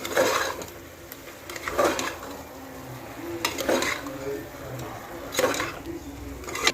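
Garam masala being stirred into chicken haleem in a pot: slow rhythmic scraping stirs about every two seconds over a soft sizzle, with clinks of a spoon against the pot, heard up close.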